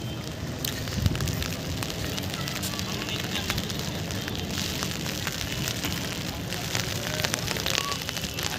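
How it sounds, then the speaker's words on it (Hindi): Rain falls with wind in Vrindavan near the Yamuna, a steady broadband hiss of drops at close range with a few sharper spatters, continuous throughout with no talk. "देखिए बरसात हो रही है हवा के साथ"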